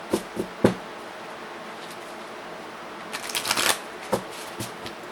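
A psychic tarot card deck is shuffled close by, a few soft riffle snaps at the start, then a quick burst of shuffling with light taps in a quiet room, no speech.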